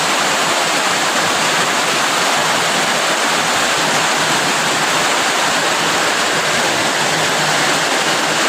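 Flood water in Perak rushes in a loud, constant roar, broad and unbroken like a torrent pouring close by, with no voices heard.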